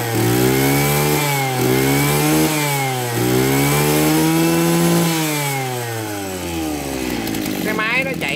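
A Maruyama JC261DX 26cc brush cutter engine runs loud and close, its pitch rising and falling steadily as the throttle is worked.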